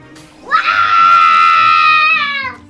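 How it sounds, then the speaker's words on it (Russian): A young boy lets out one loud, sustained high-pitched scream lasting about two seconds after opening a toy chest, nearby and alone. "Капец, мне страшно стало, когда ты закричал."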